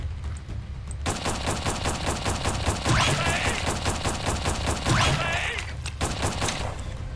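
Video game gunfire in a Mr. Krabs tax-collector game: a steady, rapid automatic stream of loud shots that runs almost without pause, with a few brief breaks and extra impact noises layered in.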